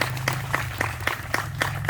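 Applause from the audience at a company expansion groundbreaking ceremony, a steady patter of claps with regular sharp hits over a low hum, no talk.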